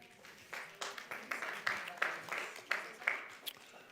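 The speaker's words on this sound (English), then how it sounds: "the idea is to not applaud each and every time" Audience applause at a Kern County Board of Supervisors evening budget meeting, a scattered round of claps from the public that swells and fades over several seconds with a few louder bursts.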